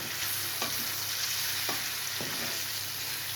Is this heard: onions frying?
yes